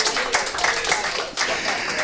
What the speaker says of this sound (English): How about a round of applause for a win over Ohio State?